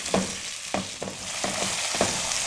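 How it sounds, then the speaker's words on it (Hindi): Potatoes and eggs frying in a pan for a potato and egg curry, with a steady sizzle and about five scraping stirs at roughly even intervals, close and moderately loud with no talking. "अब इनको हम 3 से 4 मिनट के लिए अच्छे से भून लेंगे"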